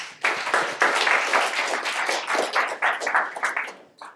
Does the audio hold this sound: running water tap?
no